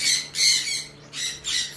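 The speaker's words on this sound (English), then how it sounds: "red gold pheasant" A red golden pheasant gives four sharp, loud squawks in quick succession, close to the listener with nothing else around.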